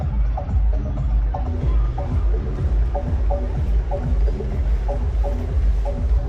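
Distant rave music drifting across an open area in Budapest, a steady thumping bass beat with faint repeating synth notes under constant crowd and ambient noise.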